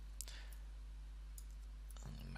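A computer mouse clicks a few times while duplicating a cube in the Unity 3D editor, sharp isolated taps spaced apart over a low, steady background hum.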